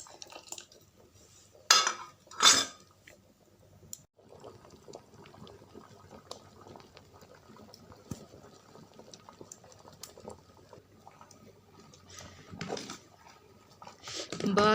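Rice being stirred in a cooking pot on a village stove gives a few scraping, clattering knocks of a utensil against the metal pot, set among quieter simmering sounds and a low background murmur.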